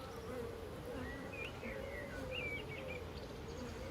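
Honey bees buzz around a top bar hive in a low, steady drone, with faint bird chirps sounding in the background.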